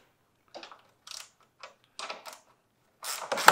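Bolts being loosened on a 2000–2006 Chevrolet Silverado 2500 radiator with a 10 mm wrench, heard as several short, faint metallic clicks and ratcheting bursts spaced apart, ending in a louder clatter.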